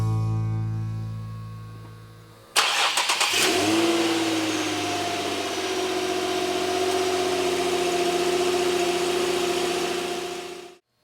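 A 2008 Infiniti G35x sedan's 3.5-liter V6 cranks and catches after a couple of seconds, then settles into a steady, close idle hum that runs until it cuts off.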